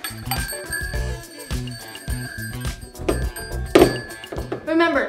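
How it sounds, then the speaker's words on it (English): Small bells hung on a string trap in a playroom jingle and tinkle in bright, ringing bursts, mixed with thumps and a voice talking over them. "Remember, listen for these bells."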